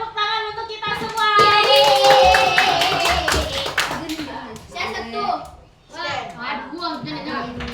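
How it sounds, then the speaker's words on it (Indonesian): Children in a fifth-grade classroom clap their hands together for a few seconds, loud and close, mixed with kids' voices and chatter; clapping thins out and talk continues afterward. "Tepuk tangan untuk kita semua."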